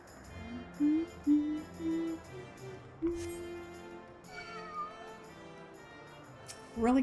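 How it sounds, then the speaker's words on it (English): Several short, high cat-like meows from a creature, spaced irregularly over a quiet background with occasional soft thumps and chimes. "He's meowing at me, but then attacking me."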